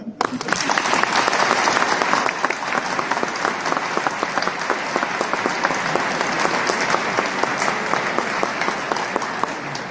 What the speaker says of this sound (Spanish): Y para lo cual yo pido un aplauso.